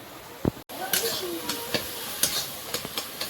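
Fish fries in a pan with a steady sizzle close by, broken by scattered clinks and scrapes of stirring.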